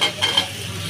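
Prawns being stir-fried in a pan, a brief burst of sizzling with a scrape or two of stirring, close and fairly loud, with no voices.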